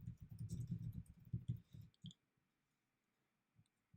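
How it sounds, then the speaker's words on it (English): Close, quiet keyboard taps typing a search query: a rapid burst of keystrokes for two seconds, then silence broken by a couple of isolated clicks. "So I'm just going to type that in."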